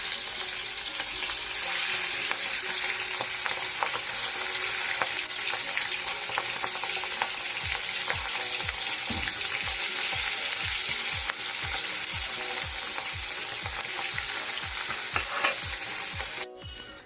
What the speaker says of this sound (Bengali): তেলটা গরম হয়ে গেছে আমার, এর মধ্যে আস্তে আস্তে করে আমি মাছগুলো এক এক করে ছেড়ে দেবো